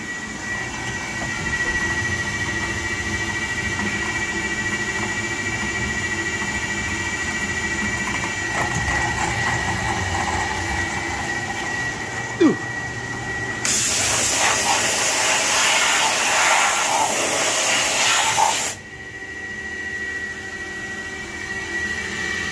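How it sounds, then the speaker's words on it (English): A CNC machine drills and taps holes in a BMW crown wheel for a Quaife limited-slip differential, giving a steady machining hum with a loud hissing burst of coolant or air partway through. "tool goes up, gets a tap, comes down, taps the holes"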